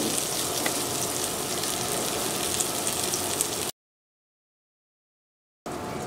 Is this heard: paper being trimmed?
no